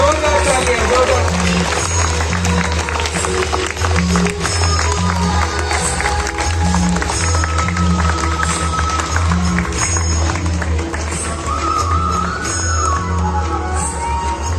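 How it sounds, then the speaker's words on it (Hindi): Loud, sustained audience applause and cheering at a gathering honouring the Sakshi Gopal temple, filling the whole stretch over a steady low musical drone. "जोरदार तालियों के साथ हम सभी लोग प्रोत्साहन करते हैं।"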